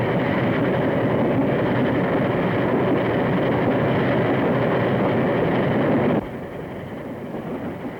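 A train running along a railway in a 1932 film gives a loud, steady rumbling roar that drops suddenly to a lower, quieter rumble near the end.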